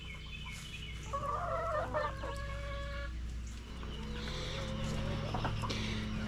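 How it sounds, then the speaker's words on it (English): Chickens on a backyard farm clucking and squawking near the nest boxes, several birds calling over each other in steady, busy bursts close by with a low hum underneath. "Crazy chickens."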